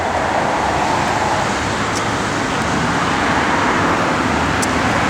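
A 1970 Plymouth Barracuda with a 440 V8, TTI ceramic headers and electronic ignition runs with a steady, loud, rumbling exhaust, heard close and alone with no talking.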